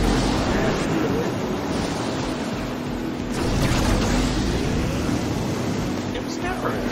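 Ocean surf in a racing video game, heard as a constant broad wash of waves and wind with a low engine-like hum underneath, with no obvious breaks.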